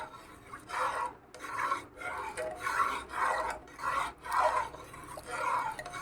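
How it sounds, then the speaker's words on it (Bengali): An egg is stirred into a pot of chicken soup, giving a rhythmic scraping and swishing of a utensil against the pot, repeated about eight times in even strokes, close and moderately loud. "এবার আমি দিয়ে দিচ্ছি এর মধ্যে ডিম, দিয়ে নাড়তে থাকবো।"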